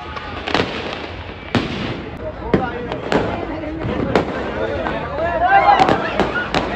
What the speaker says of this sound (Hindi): इतना पटाखे भी देख सकते हैं।